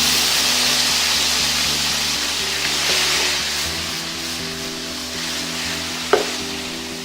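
Tomatoes tipped into hot ghee with spices and chilies for an Indian methi curry, giving a loud, steady frying sizzle and hiss with a brief stir clatter near the end.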